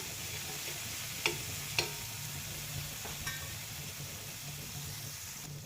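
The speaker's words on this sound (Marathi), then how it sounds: "आणि कोथिंबीर त्याला परतून घेऊया." Fresh coriander is stir-fried with the vegetables for pav bhaji, giving a soft, continuous sizzle with a few sharp clicks and scrapes of a spatula against the pan. The sound is faint and close, with no talking.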